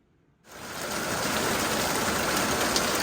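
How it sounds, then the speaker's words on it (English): Rain falls outside in a steady, dense hiss that starts abruptly and then holds even and close for the rest of the clip, with no voices over it. "Oh my goodness, guys, we got some rain."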